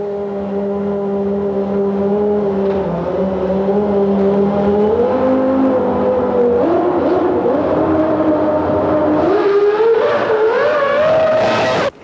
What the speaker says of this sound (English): Mika Hakkinen used the Barcelona tests to repeatedly practice his race starts